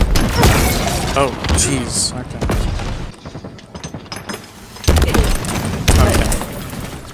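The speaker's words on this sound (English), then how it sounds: "that grenade literally exploded directly on me and it dealt like almost nothing" A grenade blast in the Halo Infinite shooter lands close and loud, with a heavy boom amid other gunfire and impact thuds; a player exclaims briefly over the combat noise.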